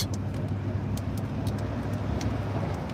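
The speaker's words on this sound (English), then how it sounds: "Boy, New York traffic, boy, is something else, boy." New York City street traffic, a continuous low rumble of passing cars and engines with a steady hum, close and loud, and occasional brief higher clicks over the wash of road noise.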